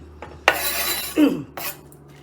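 Chopped onion is tipped into a pot for vegetarian borscht: a sharp metallic clank, then a brief scraping slide and a softer knock, close and without speech.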